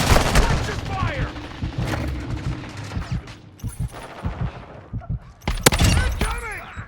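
Video game shooter firefight with rapid gunfire bursts and sharp blasts from a thrown grenade, loud and busy, with shouted voices mixed in among the shots and a big burst near the end.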